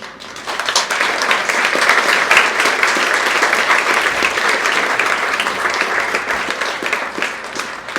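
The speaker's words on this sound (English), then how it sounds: "I hope you can hear the big round of applause, Majora." A conference audience gives a big, sustained round of applause, dense steady clapping filling the room for several seconds with no talking over it.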